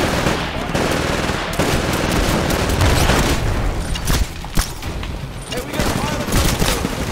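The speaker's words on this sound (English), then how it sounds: "Auto fire pistol" Rapid bursts of automatic pistol fire in the video game Titanfall, a dense continuous stream of shots over loud in-game combat noise, with a sharp isolated crack near the middle and a player talking throughout.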